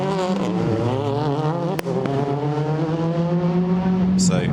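Ford Focus rally car on a Goodwood SpeedWeek rally super special stage, engine revving hard through rising and falling gear changes, loud and close, with a commentator speaking over it.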